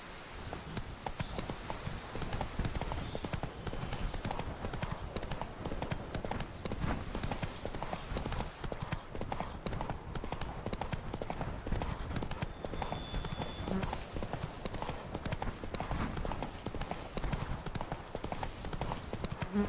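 Roach, a horse in The Witcher 3 game, gallops with a continuous fast clip-clop of hooves throughout, steady and fairly loud against a busy background.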